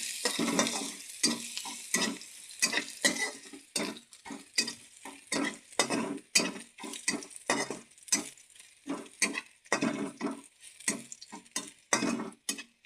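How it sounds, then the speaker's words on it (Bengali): Crushed garlic sizzles and crackles in a hot pan while a spoon stirs it in a steady, busy rhythm of scrapes and spatters, close and fairly loud with no talking. "ভালো করে এটা ভেজে নেব।"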